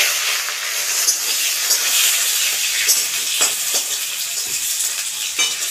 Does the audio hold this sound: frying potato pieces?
yes